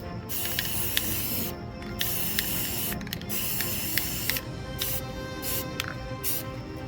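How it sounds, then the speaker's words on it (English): Aerosol spray paint applied to a 1:18 scale UTH-66 Blackfoot model helicopter: a continuous close hiss broken by short pauses and small clicks of the nozzle. "I always find spray painting satisfying because the multiple colors turn into one beautiful color."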